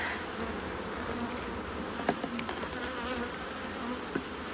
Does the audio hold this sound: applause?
no